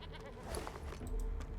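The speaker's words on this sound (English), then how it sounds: "Oh, there's a sheep." A sheep bleats in the fantasy role-playing game Divinity: Original Sin 2, a short, faint nasal call over low ambient game sound.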